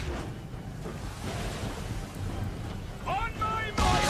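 Wind and waves at sea in Assassin's Creed 3 make a steady, broad roar of surf and gusting air, with brief voices and a sharper swell of noise near the end.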